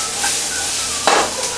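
Rice wine splashed into a hot wok of vegetables over high heat for a Korean-Chinese ulmyeon broth, giving a steady sizzle with soft stirring and a brief louder hiss burst near the end.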